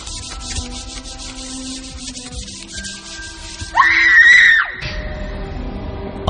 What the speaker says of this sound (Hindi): और एक स्टूडेंट की चीख